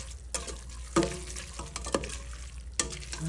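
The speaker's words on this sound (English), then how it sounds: "add a little more garlic to the noodles. Stir that around." Penne pasta and garlic get stirred around in a pan, with soft scraping strokes and a few sharper knocks over a low background sizzle, no one speaking.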